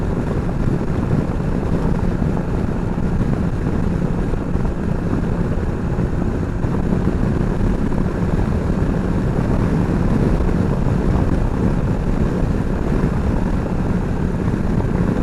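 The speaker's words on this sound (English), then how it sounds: "Then I'll hear what my bike sounds like. From behind." A motorcycle ridden on the road, recorded from behind, gives a steady, loud, dense roar that holds unbroken throughout, blended with heavy wind buffeting and no voices.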